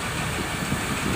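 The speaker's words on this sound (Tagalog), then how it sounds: "Yan, daming sasakyan." Road traffic with many vehicles near a school at pickup time, a steady broadband rumble of engines and tyres passing close by, no speech.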